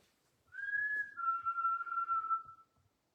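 Michelle whistles in a dark hallway, a sustained two-part tone that steps down in pitch midway and holds for about two seconds, moderately faint, with light shuffling noises underneath.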